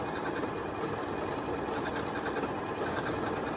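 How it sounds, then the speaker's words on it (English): Janome Memory Craft MC9450 computerized sewing machine stitching steadily, a close, continuous mechanical whir with a fast even needle rhythm throughout and no talking. "This machine is just beautiful when it's doing the stitching."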